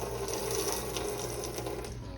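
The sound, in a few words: liquid being poured off cooked wings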